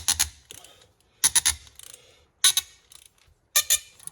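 A ratchet tightens fittings on the brake lines of a 1987 Dodge Colt, giving several short bursts of rapid metallic clicking separated by pauses, close and fairly sharp.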